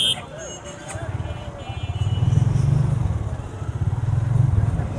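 Motorcycle riding against traffic on the wrong side of a road, its engine rumbling and rising close by, under loud overlapping talk.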